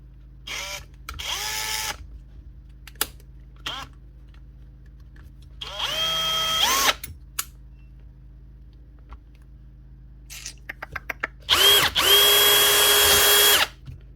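A dropped and repaired Bosch power drill runs in several short bursts, its motor whining up to speed and cutting off, with quiet clicks of the switch between runs, close and loud.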